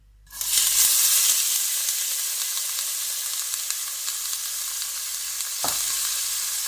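Chopped leek hits hot oil in a pan and bursts into a bright, steady sizzle that holds on, with a brief stir or shift partway through.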